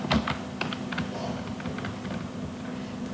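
Someone types a phone number on a computer keyboard, producing a quick run of light key taps near the start, then softer scattered clicks over a steady room hum.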